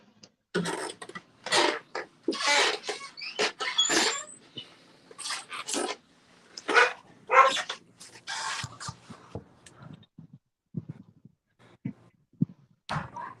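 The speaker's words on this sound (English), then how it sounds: "What are you barking about, dogs?" Several dogs bark in repeated short bursts, some close and loud and others thinner, with pauses between volleys and a few quieter yips near the end.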